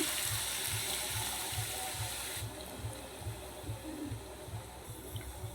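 Sliced potatoes for homemade chips frying in hot oil over a high gas flame, a steady close sizzle and hiss running throughout with a faint rhythmic low thump beneath it.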